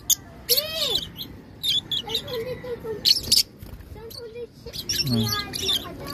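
A young pet bird that is still learning to fly gives high chirps, tweets and short squawks indoors. The calls come in quick, scattered bursts up close while a person talks softly to it.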